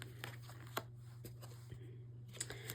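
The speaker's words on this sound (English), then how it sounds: "Okay, so one more card. I'm shuffling." A tarot deck is shuffled by hand, giving soft, crisp riffles and papery taps in a few separate bursts over a quiet background with a low steady hum.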